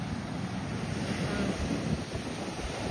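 Sea waves surge toward a thatched hut on a beach: a continuous roar of surf with gusting wind buffeting the microphone, loud and close, no voices.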